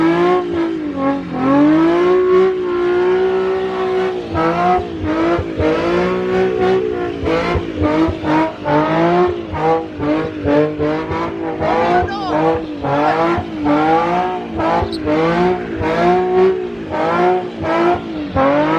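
A car with an RB25DET engine revs hard and spins donuts, its loud, wavering engine note rising and falling continuously with tire squeal, while people talk and shout nearby.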